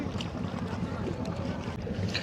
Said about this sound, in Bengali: অনেক প্রতীক্ষার পরে আমাদের নৌকা আসছে